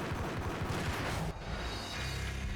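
Gunfire in Max Payne sounds as a rapid string of heavy, booming shots that stops abruptly, leaving a dull, rumbling game ambience with no voices.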